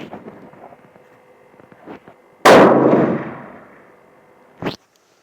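A single loud gunshot from a .300 PRC rifle firing Hornady Precision Hunter 212 grain ammunition: a sharp crack with a long rolling decay outdoors, followed by a metallic clack, amid quiet background sounds.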